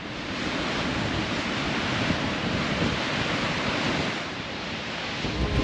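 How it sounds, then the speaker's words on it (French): The 45-metre waterfall of the Agrio river pours into a lagoon ringed by high basalt walls, producing a constant dense roar of rushing water with no pauses. "La cascade de la rivière Agrio fait 45 mètres de haut"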